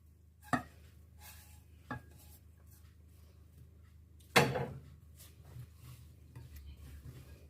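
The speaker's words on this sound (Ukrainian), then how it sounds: "Тепер я додаю сюди грибочки." Mushrooms dropped into a salad bowl while making a hearty Ukrainian hunter's salad, a few soft knocks and one louder clattering tumble over a quiet room hum, with no talking.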